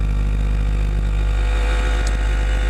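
A Simson S51 moped ridden in fourth gear at about 40 km/h, its small two-stroke engine droning steadily and close under light throttle, with constant wind rush and no speech.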